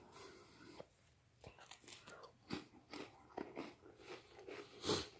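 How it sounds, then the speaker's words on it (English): A vintage LRP ration cracker is bitten and chewed close up, with several crisp crunches at irregular intervals and a louder bite near the end, quiet and without talk. "I'm going to try one of the crackers real quick"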